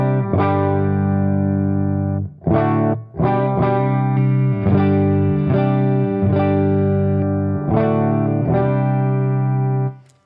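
Electric guitar chords ring out, played direct into an amp's effects loop return, with a dark, somewhat dull tone, strummed in a loose rhythm with brief pauses between phrases.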